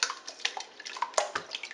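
Pork chitlins and water pour from a container into a pot, splashing and sloshing close up in an irregular stream of wet slaps and drips.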